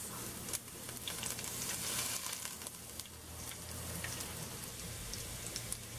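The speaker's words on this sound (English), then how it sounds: "Once the oil is nice and hot, I'm going to add the onions and some curry leaves or karapile leaves." Onions and curry leaves (karapile) sautéing in hot oil, a steady close crackling sizzle with light stirring clatter running continuously throughout, no voices.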